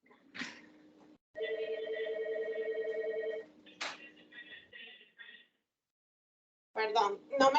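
A telephone rings indoors during a meeting, a steady electronic tone with a few short bursts, loud and close. Speech comes before and after it.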